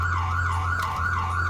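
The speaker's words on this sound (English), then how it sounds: "You pansies have got to pull over for lights and sirens and horns" A loud, close emergency vehicle siren on a road in Arundel, a rising and falling wail repeating about once every half second over steady engine drone.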